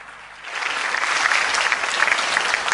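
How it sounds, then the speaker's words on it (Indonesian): A church congregation breaks into applause, a dense burst of clapping that swells after a brief moment and stays full and close to the end. "Berikan tepuk tangan"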